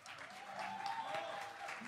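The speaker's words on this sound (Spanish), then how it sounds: "un fuerte aplauso para ellos" Audience applause at an outdoor band festival, steady clapping over about two seconds, fairly faint and distant with a broad crowd wash.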